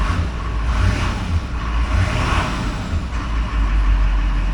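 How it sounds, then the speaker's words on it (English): A 2002 Chevy 2500HD truck with a Duramax LB7 6.6L diesel engine runs steadily, a continuous loud rumble with deep low-end throb and a slight swell midway, with no voices over it. "Pretty nice running truck."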